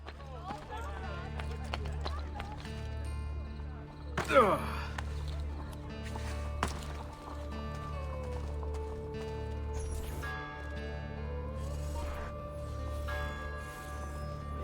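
Horse hooves galloping in Assassin's Creed Brotherhood, a quick run of clip-clop hoofbeats passing by within the game soundscape, set against a steady low background with tonal music and someone talking over it.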